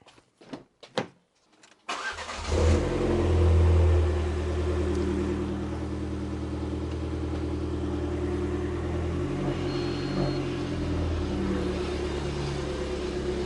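A car engine on a jacked-up Alfa Romeo Giulietta, with a few knocks before it settles into a steady mid-pitched hum as the raised wheels spin, loud and close throughout.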